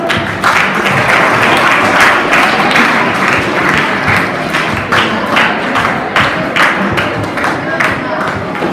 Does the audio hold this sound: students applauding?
yes